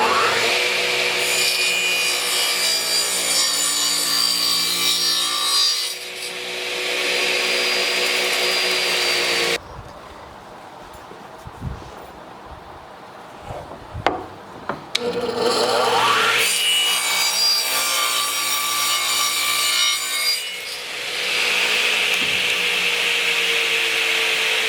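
A power saw blade cuts through wood in two long passes, a loud close whine and rasp, with a quieter gap between the cuts and no talk.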